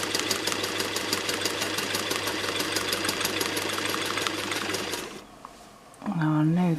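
A sewing machine quilting a wavy line stitches in a fast, even mechanical rattle for about five seconds, then stops; a voice follows afterward.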